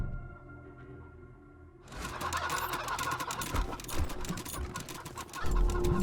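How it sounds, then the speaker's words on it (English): Chickens in the video game Wasteland 3 cluck under a low game ambience, which swells into a busy, dense wash of sound partway through, with clucks mixed in. "Yeah, we've got all the chickens."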